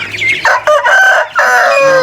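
A rooster crows loudly and close up, a long drawn-out cock-a-doodle-doo filling the moment.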